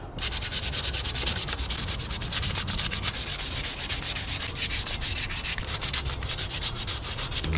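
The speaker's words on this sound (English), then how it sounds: "just give this a good old sand down" Steady, continuous hand sanding of a wiper arm from a Honda CRX, a close, even scratchy rasp with a quick stroke rhythm running the whole time, no talking.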